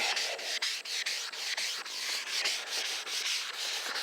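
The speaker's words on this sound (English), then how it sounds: "you can continue sanding this light" Steady rhythmic rubbing of a sanding sponge over a yellowed hard plastic car headlight, repeated back-and-forth strokes, close and clear with no voices.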